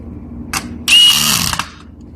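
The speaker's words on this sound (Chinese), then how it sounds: "把螺丝锁上，" A power screwdriver drives screws into the motherboard of a 32-inch portable screen: a short whir, a pause, then a longer loud buzzing run of about two-thirds of a second that cuts off abruptly, close up.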